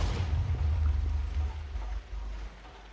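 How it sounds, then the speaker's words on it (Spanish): An explosion in a modded Minecraft-style game, a deep low rumble that booms at first, then fades and drops away in steps over a few seconds, with no voices. "Puedo escuchar una explosión."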